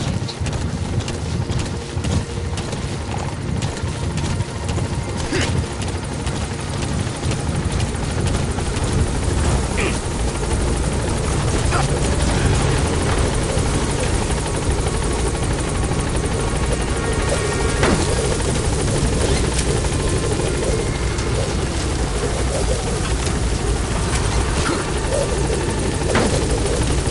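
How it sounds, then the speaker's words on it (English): A support helicopter in Metal Gear Solid 5: The Phantom Pain drones loudly and steadily throughout, its rotor wash a dense continuous roar with faint thumping. "Support helicopter has arrived."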